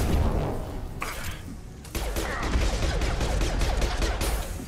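Rapid bursts of gunfire in the sci-fi shooter game Mass Effect 2, loud and fairly continuous, with a short lull before the shooting picks up again.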